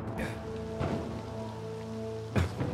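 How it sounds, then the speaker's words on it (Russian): Rain falling in a video game, a soft steady patter with a few louder splashes or knocks in between, quiet and continuous, no speech. "Дождь идет."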